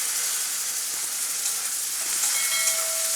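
Green beans sautéing in a pan with turmeric and a medium tomato, giving a steady, close sizzling hiss that holds evenly throughout, with no talking.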